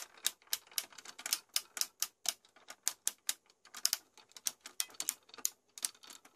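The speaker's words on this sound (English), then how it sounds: "Kronos here has some nice sounding ratchets." Ratcheting joints on a Daca Toys Kronos transforming robot figure click sharply in quick bursts, a dense irregular series of crisp mechanical clicks heard close up with no talking.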